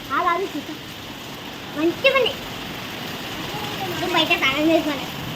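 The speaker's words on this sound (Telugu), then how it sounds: "మళ్ళీ ఫుల్ అయిపోయింది వర్షంలో" Steady hiss of heavy rain falling throughout, with people talking intermittently over it.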